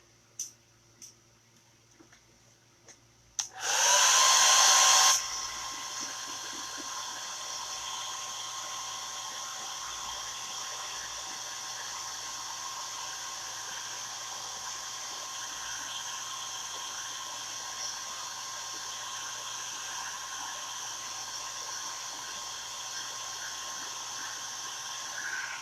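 Hair dryer blowing on Chalk Couture paste, switching on with a short loud burst, then running as a steady, even whoosh close by for the rest of the time, with no talking.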